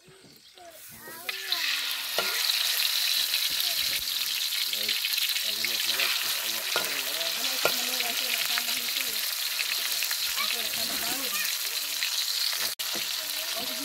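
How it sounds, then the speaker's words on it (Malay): Fish fries in oil in a hot wok, a steady close sizzle and crackle with occasional stirring clatter, while a voice speaks faintly beneath it. "Goreng ikan dulu."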